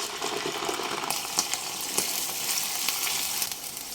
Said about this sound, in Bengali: পেঁয়াজের কালার চেঞ্জ হয়ে আসা পর্যন্ত একটু ভেজে নেব